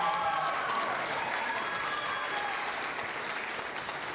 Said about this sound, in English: give another round of applause to Maura Walker